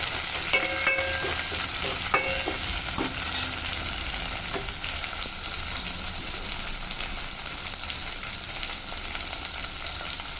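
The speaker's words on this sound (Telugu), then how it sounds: "కొంచెం వీటిని ఫ్రై చేయాలి." Drumstick, ivy gourd and carrot pieces fry in a pan, a steady close sizzle running the whole time with a few scrapes and stirs near the start.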